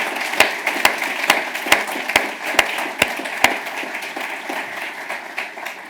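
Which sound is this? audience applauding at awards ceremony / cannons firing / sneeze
audience applauding at awards ceremony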